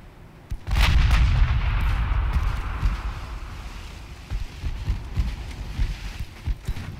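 Naval artillery ranging shots in the warship battle game Ultimate Admiral Dreadnoughts, a heavy booming salvo that rolls into a long rumbling tail with smaller distant thuds and crackles following.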